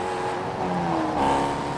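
A Hellcat car engine drones nearby in a steady, low rumble with a slight swell in revs partway through, heard alone without talk.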